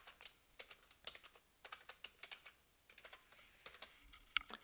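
Quiet, irregular clicks of a password being typed on a computer keyboard, with short bursts of keystrokes separated by brief pauses in a hushed room.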